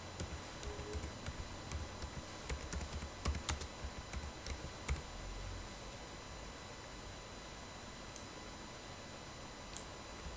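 Keys clatter on a computer keyboard in a quiet room as a cost figure for fabrication is entered, a burst of soft irregular clicks in the first half, then near silence with one stray tap near the end.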